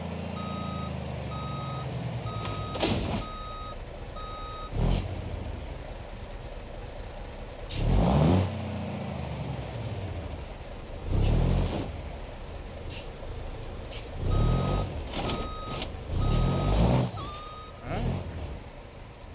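Reversing beeps from a cab-over truck in the driving game BeamNG.drive sound in steady intermittent runs, pausing and resuming, over engine rumble with air-brake hisses and clunks.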